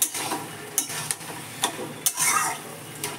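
Hilsa fish with taro leaves frying in oil rendered from the fish, a steady close sizzle broken by several sharp scraping stirs of a spatula against the pan.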